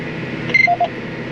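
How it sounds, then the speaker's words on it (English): A tractor's GPS guidance system gives a few short electronic beeps, a higher tone then two lower ones, over a steady engine hum inside the cab at night. "My guidance is still on. It's beeping at me."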